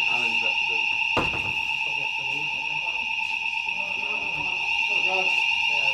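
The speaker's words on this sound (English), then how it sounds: "Fire alarm!" A fire alarm rings through a football press conference room, a loud steady electronic tone sounding continuously for six seconds while people talk beneath it and one sharp knock stands out early.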